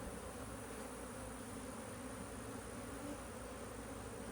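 Honey bees in a colony during a hive split, a dense, steady buzzing hum from many insects, continuous and close, with no voices.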